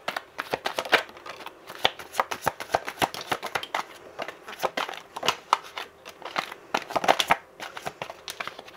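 A tarot deck is shuffled close up, making quick papery riffles and slaps in uneven bursts, with short pauses between them and no talking.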